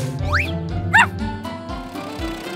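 A cartoon puppy yips in a few short, high bursts over a bright children's cartoon soundtrack with music and effects, sounding close and lively.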